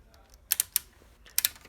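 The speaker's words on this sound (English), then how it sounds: "when you hear that clicking noise, that's actually just the ratchet" A ratchet on a single-motor robot intake and indexer clicks sharply in two quick bursts, with a few crisp ticks close up and no talking.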